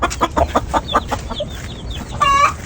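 Backyard chickens clucking in a steady run of short calls at close range, followed by a louder, drawn-out crow-like call near the end.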